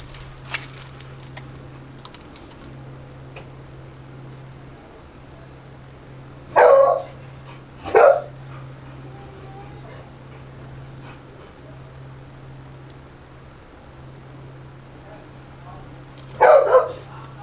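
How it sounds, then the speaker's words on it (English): Dogs barking at builders during building work: a few sharp bark bursts in separate clusters over a low steady hum, with brief quiet gaps between them and faint background clatter. "the dogs are barking at the builders"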